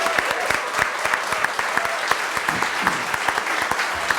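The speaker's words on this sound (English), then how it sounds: "how about one last round of applause for our storytellers?" A crowd at a story slam applauds continuously, with individual sharp claps standing out against a steady wash of hands.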